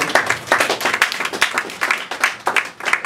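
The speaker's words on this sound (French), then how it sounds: "est-ce qu'on peut applaudir pour ceux qui ont présenté" An audience at a public-speaking conference claps for the presenters, a dense, continuous patter of many hands that rises and falls in brief swells for about three seconds.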